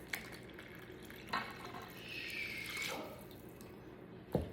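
Warm water poured into a bowl of flour and olive oil for artisan pizza dough, a soft steady trickle rising over a couple of seconds between faint clinks, with no talk.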